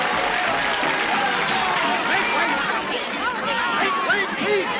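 A crowd in a theatre cheers, claps and chatters together, with a dense, steady roar of many voices and whoops that carries through the whole stretch.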